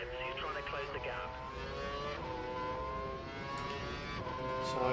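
Formula 1 engines at full revs in the F1 2012 racing game at the Chinese Grand Prix, a high whining scream with rising and falling gear shifts, heard steadily under a commentator's voice.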